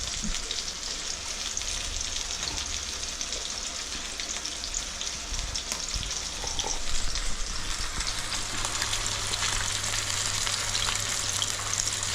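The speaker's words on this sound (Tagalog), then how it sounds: "May prito tayong salmon." Salmon sizzles and crackles steadily in a hot frying pan, close up, a continuous fizzing hiss with occasional pops, no talking.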